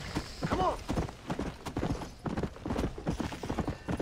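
Horse hooves clip-clop in a steady trotting rhythm in the Western zombie video game Red Dead Redemption: Undead Nightmare, close and fairly loud, with a brief whinny-like call near the start.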